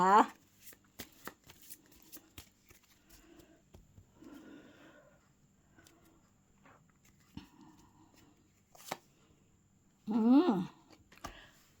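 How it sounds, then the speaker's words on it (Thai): Tarot cards are shuffled and drawn in short papery bursts and flicks, quiet and close, with soft handling noises between them and a louder riffle near the end. "ขอเป็นตัวแทนจับไพ่จับไพ่ให้คนเกิดวันพุธนะคะ"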